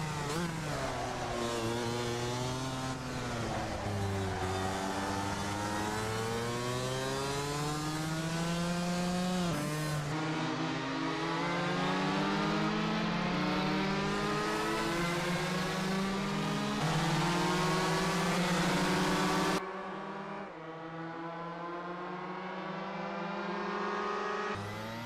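Go-kart engine in the Assetto Corsa racing game, lapping a slot car track: a continuous buzzing whine that climbs and falls in pitch with throttle and shifts, steady and loud with no talk.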